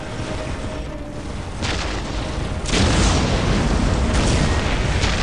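Ork artillery shells burst in the Dawn of War strategy game, a rumbling barrage of booms that swells louder partway through and stays heavy to the end, with no talk.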